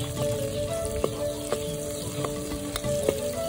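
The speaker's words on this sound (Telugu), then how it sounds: "నూనె కాగిందండి, ఉల్లిపాయ పచ్చిమిరపకాయలు పోసి సెట్ పెట్టుకున్నాయి వేసుకోండి." Chopped onions and green chillies fry in hot oil for a brinjal and green peas curry, giving a steady, close sizzle with a few soft stirring clicks and no talking.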